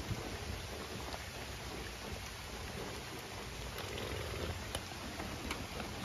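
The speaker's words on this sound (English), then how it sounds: "it started raining harder" Steady rain falling outdoors during a thunderstorm, a constant hiss with scattered drop ticks and a faint low rumble underneath, no voices.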